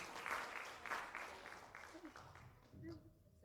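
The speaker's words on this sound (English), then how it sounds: "the round of applause comes at the stage" An audience at a business event applauds as a speaker comes onto the stage, a dense, fading wash of clapping mixed with a voice talking over it.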